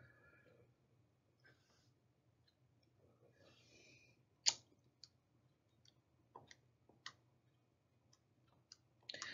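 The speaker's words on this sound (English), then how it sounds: "I'm typing this in my calculator just to be sure." Keys on a handheld calculator are pressed in quick, sharp clicks, spaced irregularly and close by, with soft muttered speech and breathing between presses.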